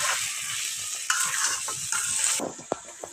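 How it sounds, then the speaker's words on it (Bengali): Country chicken with raw onion braises in a pan as a spoon stirs through a steady sizzle, with a brief louder burst and a couple of sharp knocks near the end. "এখন আমি এটাকে আরও কিছুক্ষণ কষিয়ে নিব।"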